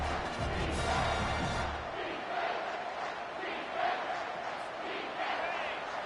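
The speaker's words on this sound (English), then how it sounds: "And the crowd coming to life here," Football stadium crowd roaring and rising in a steady, loud wash of cheering during a defensive timeout, a deep low rumble underneath in the first couple of seconds, then sustained noise with no clear talk.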